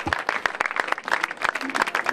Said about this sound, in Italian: per fare un applauso a Stefano Biondi